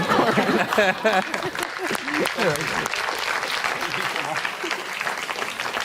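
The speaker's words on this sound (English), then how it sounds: "Another round of applause for Alex." An audience breaks into loud, sustained applause and cheering, with a voice speaking over the clapping at the start.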